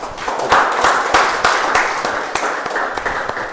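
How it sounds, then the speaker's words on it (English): A Toastmasters meeting audience claps for several seconds, a moderate patter with sharp individual claps standing out over the ongoing sound. "So let's give a big round of applause."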